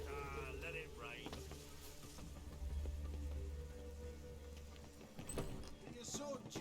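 Steady rain patters throughout in The Witcher 3: Wild Hunt, with a low rumbling bed beneath and occasional music-like tones and a voice over it.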